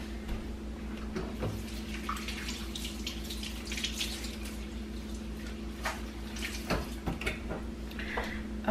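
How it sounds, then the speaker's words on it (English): A kitchen sink tap runs steadily while hands are washed under it, a soft continuous stream with faint splashes and drips, fairly quiet and without speech. "I'm gonna wash my hands."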